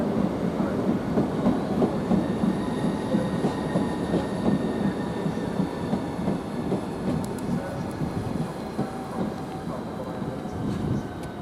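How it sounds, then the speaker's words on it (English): A Southeastern train, likely a class 395 unit, running at Ramsgate station, giving a steady loud rumble with rail clatter that carries on without a break, close by, while faint voices sound in the background. "Now the Southeastern train, which is the 11:28 to Margate"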